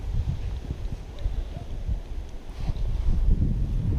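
Gusty wind buffeting the microphone while fishing in Sweden, low rumbling blasts rising and falling irregularly, with faint rustling in the background.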